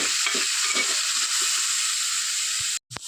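Tomatoes, curry leaves and two green chillies sizzle steadily in hot oil in a pan, a continuous bright hiss with occasional stirring scrapes, close and alone, cutting out briefly near the end.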